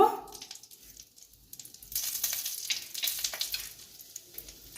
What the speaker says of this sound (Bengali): এর মধ্যে একটা তেজপাতা দিয়ে দিলাম, আর সাদা জিরা ফোড়ন দিয়ে দিলাম অল্প